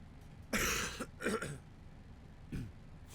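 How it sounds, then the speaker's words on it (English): A person coughing: a few rough throaty bursts, close and fairly quiet, spaced apart with short pauses, no speech. "apologies if you hear a cough as I'm talking"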